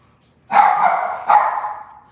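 A dog at home gives two sharp, close barks in quick succession, loud and clear with no talk over them.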